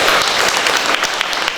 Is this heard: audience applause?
yes